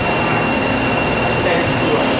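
The spindle of a new 2001 Kuraki KHM-125 CNC horizontal machining center spins up toward 2,500 RPM, a loud, continuous mechanical roar with a thin steady whine above it, heard close and without pause.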